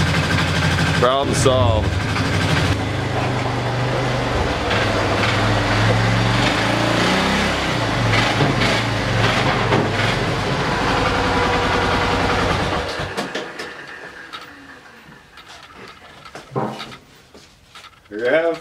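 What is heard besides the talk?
Polaris Sportsman 500 ATV engine idling and warming up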